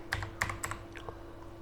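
A handful of crisp keystrokes on a computer keyboard tap out in a brief quick run, close and moderately loud, then trail off into soft background hum.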